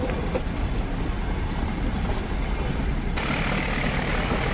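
The Ooty toy train of the Nilgiri Mountain Railway runs slowly, giving a continuous low heavy engine rumble and mechanical hum, steady and close, with no voices.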